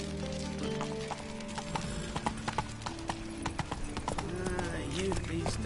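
Horse hooves clip-clop in quick, steady rhythm as a horse gallops in The Witcher III, close and clear, with voices talking over the hoofbeats and a brief whinny.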